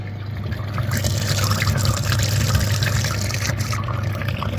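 Water gurgles and rushes steadily as a Skoda/VW Touran cooling system circuit is flushed during a coolant change, a continuous close, loud liquid flow with no pauses.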